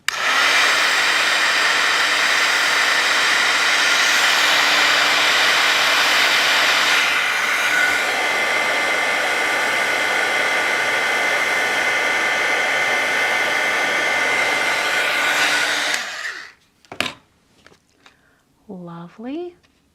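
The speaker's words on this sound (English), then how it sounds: "And I'll just use my heat tool." Heat tool blowing hot air over stamped ink in a paper-crafting session, a loud steady whooshing hum for about sixteen seconds before it switches off, followed by a few handling noises and a brief voice.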